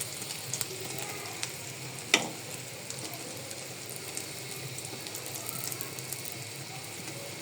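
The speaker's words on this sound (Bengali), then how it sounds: "3 মিনিট 4 মিনিট একটা ডিম ভাজা হয়ে যায়।" An egg frying in a pan gives a quiet, even sizzle that holds steady throughout, broken once by a single sharp clink of a utensil.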